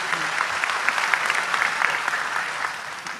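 A crowd applauding with steady, dense clapping that holds throughout and fades slightly at the end.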